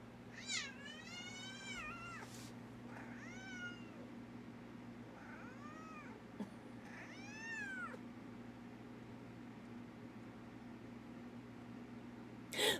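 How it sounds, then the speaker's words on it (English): A pet cat meows several times while being petted during a livestream, drawn-out rising and falling calls spread across the stretch, with quiet hum and soft background noise between them. "I'm petting my cat right now."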